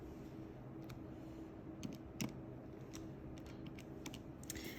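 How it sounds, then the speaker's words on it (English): Fingers tap out numbers on a calculator, a faint run of light irregular clicks and presses over quiet room hum, with no talking. "And we can type that in our calculator, 60 times 15."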